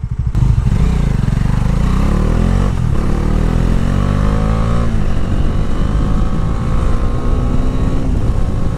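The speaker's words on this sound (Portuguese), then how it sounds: "Motor trabalha sem falha." A Bajaj Dominar 400 motorcycle engine runs loudly and close, revving up and down with rising and falling whine, steady throughout without speech.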